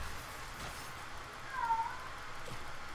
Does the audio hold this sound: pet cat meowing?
yes